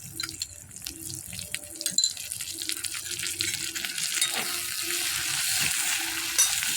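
Chopped and ground onion frying in a pan for a soybean dish, a continuous crackling sizzle with a faint steady hum and occasional clinks, no talking.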